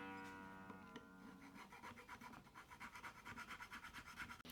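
A guitar nut slot is filed by hand: quiet, close rasping strokes in a steady back-and-forth rhythm, faint and alone with no talk.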